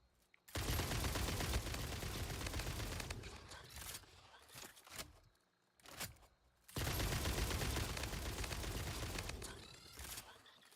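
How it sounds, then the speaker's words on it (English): Gunfire aimed at spiders in Satisfactory, loud rapid bursts of shots in two long volleys separated by scattered single cracks and short pauses, close and dense. "You guys just stay over there and let me shoot at you."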